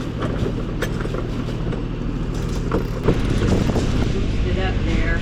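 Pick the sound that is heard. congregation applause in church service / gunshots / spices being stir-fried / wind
wind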